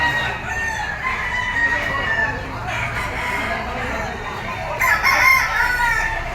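Crowing from a sweater bullstag, a young fighting rooster, at a Caloocan poultry seller, with repeated calls over steady background noise and a stronger crow near the end.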